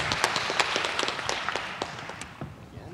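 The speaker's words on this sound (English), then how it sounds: "Applause." Conference audience at JSConf.Asia claps in a fairly sparse burst of individual hand claps, steady at first and gradually thinning and fading out.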